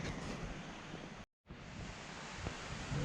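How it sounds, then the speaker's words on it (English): Stonesthwaite Beck, a Lake District mountain stream, runs in a steady broadband rush of water, constant and moderately loud, briefly cut to silence midway before resuming. "Sound of running water. That's Stonesthwaite Beck, by the way."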